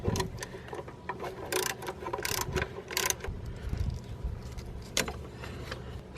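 Ratchet wrench working on bolts of an Onan Microquiet 4000 RV generator during belt maintenance, with quiet bursts of clicking pawl and metallic clanks spaced irregularly, fairly close but soft.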